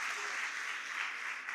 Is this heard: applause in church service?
yes